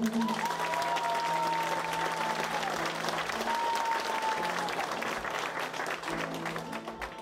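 A crowd at a cantoria (sung poetry) performance claps continuously, a broad wash of applause with a sustained tone and voices faintly underneath, steady throughout.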